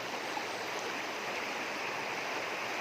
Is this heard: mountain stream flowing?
yes